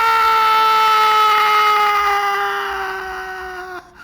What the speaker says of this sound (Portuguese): Aí vem um grito de mulher horrível